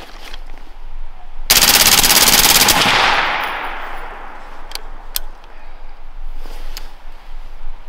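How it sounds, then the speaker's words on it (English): An AB Warthog airsoft gun fires a full-auto burst of rapid, sharp, loud shots at close range. A ringing decay follows, then a few isolated clicks and knocks in a quiet outdoor setting. "Full auto AB Warthog"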